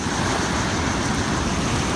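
Sea waves wash over a shallow reef at low tide, giving a constant broadband rush of surf mixed with wind noise and no voices.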